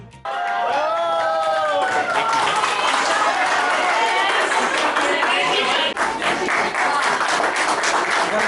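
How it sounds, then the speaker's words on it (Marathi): Thunderous applause from a large crowd at a reunion event, loud and sustained for several seconds, with cheering and voices mixed into the dense clapping. "जाईपर्यंत टाळ्यांचा कडकडाट"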